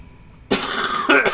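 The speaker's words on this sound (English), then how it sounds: "I'm so sorry by the way about my coughing" A man coughs a few times in short rough bursts, close to the mic. The last two are the loudest, and there is no talking between them.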